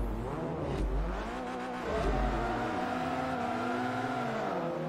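A Peugeot race car in Forza Motorsport 3 drones steadily at Mugello, its engine note rising and falling through gear changes, loud and continuous with no talk.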